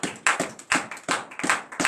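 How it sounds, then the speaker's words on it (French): A congregation at a Beninese morning prayer service claps in unison, sharp joined hand claps landing in a steady beat of about two per second. The claps are close and fairly loud, with no talk. "Donnez l'acclamation à l'Éternel"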